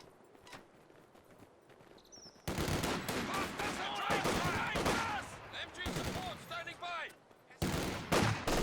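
MG42 machine gun fire in the World War II strategy game Company of Heroes 2, loud rapid bursts and scattered gunshots in a dense battle mix, cutting in abruptly after a quieter start, with a voice faintly underneath.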